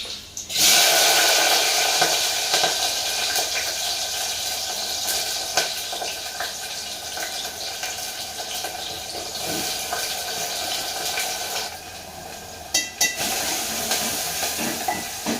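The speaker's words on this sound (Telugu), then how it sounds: "ఆయిల్ కూడా చాలా హీట్ అయిపోయింది. ఇలా వేయగానే అలా వేగిపోతున్నాయి తొందరగా" Food frying in very hot oil, a loud, dense continuous sizzle and crackle that starts abruptly and holds steady close up, with a few sharper pops near the end; no talking.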